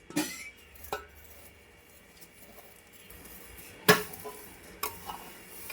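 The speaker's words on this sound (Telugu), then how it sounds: "ఇలా మొత్తం సేమియాలని వేసేసి తొందరగా ఇలా కలిపేసుకోవాలండి" Fried vermicelli gets stirred into boiling milk in a pot, with a quiet bubbling bed broken by several sharp spoon scrapes and clinks against the pan, close and sparse.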